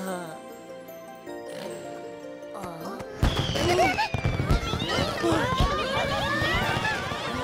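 Cartoon fireworks in an animated children's show burst in a dense crackling, popping barrage after a softer musical lead-in, with a narrator's voice over the display.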